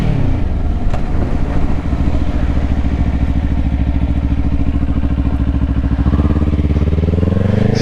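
A 2024 Kawasaki Ninja 500 with a 451cc engine is ridden, its steady, loud, close engine drone holding a constant pitch before shifting near the end, with rushing wind behind it.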